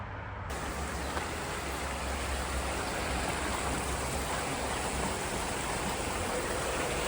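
A brook on the Appalachian Trail in Massachusetts, near a highway, rushes in a broad, steady wash of flowing water, close and continuous with no voices.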